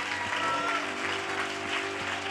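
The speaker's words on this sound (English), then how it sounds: "Can we give the Lord a big hand clap and just say yes?" A church congregation claps together in praise, a dense, steady wash of handclaps filling the room, with sustained tones from music or voices running underneath.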